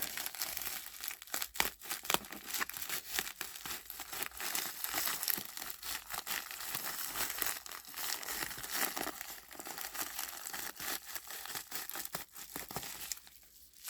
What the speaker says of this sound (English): a postal bag that I will also need to cut open.